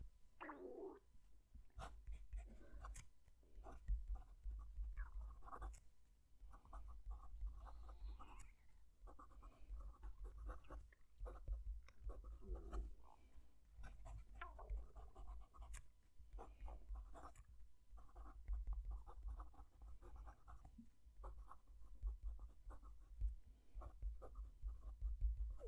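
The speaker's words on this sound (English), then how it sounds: "Let's move the mic down to the page so you can hear the pen writing." A fountain pen, soft with a slight bounce, scratches and glides across paper with the mic held close to the page, giving a steady run of small strokes and taps with no talk over it.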